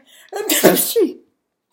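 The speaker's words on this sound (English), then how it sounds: "Why am I sneezing?" One sharp sneeze, close and loud, with a short breathy intake before it.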